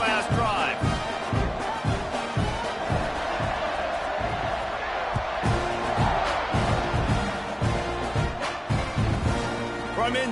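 A stadium crowd at a Gators football game roars in a loud, sustained wash of cheering and yelling, with rhythmic thumps and band-like pulses running through it and a commentator talking over the top.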